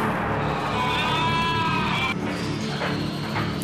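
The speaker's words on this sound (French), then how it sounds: "Les agneaux se retrouvent par centaines dans le hangar de l'abattoir." Many lambs bleat inside a slaughterhouse shed. Wavering cries rise over a dense, noisy background of the crowded animals. Another bleat follows shortly after, and the whole scene sounds fairly close.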